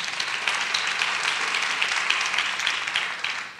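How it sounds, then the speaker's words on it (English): An audience applauds a city delegate at a workplace-equality event, with brisk, even clapping from many hands holding steady for a few seconds before tapering off. "please give her a big round of applause"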